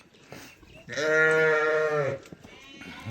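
A single loud, drawn-out bleat from a sheep or lamb, lasting about a second, rises clearly over a quiet background at a livestock sale of ewe lambs and large sheep.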